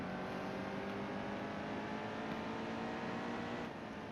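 NASCAR Heat 2 stock car engine droning steadily at high revs on the final lap at Bristol, a constant loud roar with no pauses and no talk.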